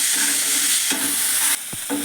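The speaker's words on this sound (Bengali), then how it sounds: "এগুলি আমি একটু ভালো করে কষে নিই" Garlic, onion and tomato puree being stir-fried in a pan make a loud, steady sizzle, broken by the scrape of the spoon and a brief drop in hiss near the end.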